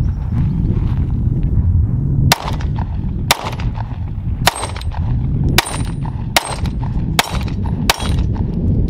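Eight sharp, loud shots from an original Gen 1 Smith & Wesson M&P Shield pistol, fired singly at roughly one-second intervals over a steady outdoor rumble.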